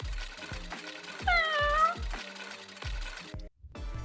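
Cat meowing in a video game: one drawn-out, wavering meow rises over a repeating rhythmic musical backdrop of thumping beats and plucked tones.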